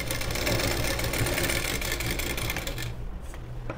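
A sewing machine runs steadily while stitching a blouse seam, a continuous mechanical whir near and fairly loud that stops abruptly just before the end.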